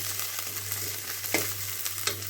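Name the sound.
onions, garlic and dried red chillies frying in oil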